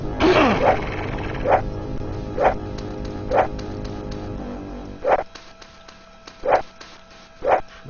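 Repeated sharp barks from a dog or wolf in the video game Dungeon Master 2, about six evenly spaced yelps over a low droning ambience, with no talking.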